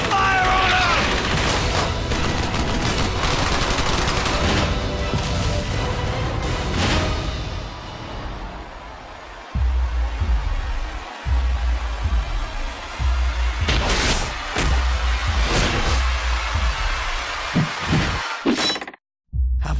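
Battle noise from a World War I video game: dense, loud gunfire and heavy booming explosions throughout, with bursts of fusillade and deep low thuds, under shouted voices.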